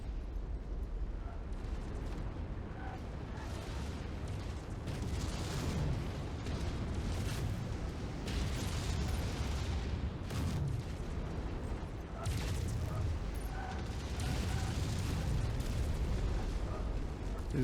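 Mechwarrior 5 video game combat with an ammo explosion, a sustained series of heavy booms and bursts rolling over several seconds amid constant loud rumbling, with occasional faint voices.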